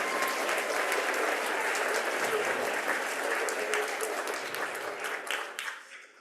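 A crowd at a school awards ceremony applauds steadily with dense clapping that holds for several seconds, then gradually fades away.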